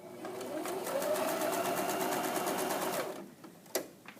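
A sewing machine runs a basting stitch on fabric with a fast, even mechanical whir and rapid needle ticks, close and steady for about three seconds, then stops, followed by a few clicks.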